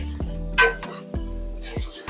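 A spoon stirs coriander powder into a watermelon and prawn curry in a metal pan, making a few sharp metallic clinks and scrapes spaced through a short, close, quiet stretch without talk.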